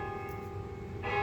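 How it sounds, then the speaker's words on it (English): Church bells ring directly overhead in a sustained, close, loud toll, their tones hanging and swelling as a fresh strike lands near the end. "You can hear the church bells right over me"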